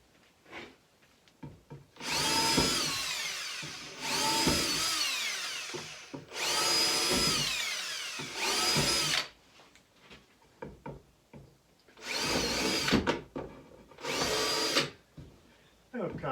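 A power drill bores holes into a wooden desk in about six loud, close bursts of high whining, each a second or two long, separated by short quiet pauses and handling clatter.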